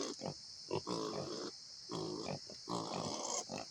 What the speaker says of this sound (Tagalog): Ito yung kanilang baboy oh.